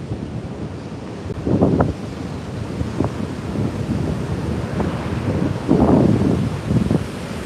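Ocean surf at Juno Beach near the pier with the tide coming in, a steady wash of waves broken by a few louder breaking swells, heavily mixed with gusty wind buffeting the microphone.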